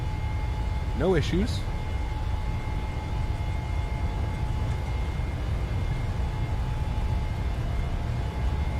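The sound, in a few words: airliner engines during takeoff roll, from Microsoft Flight Simulator video game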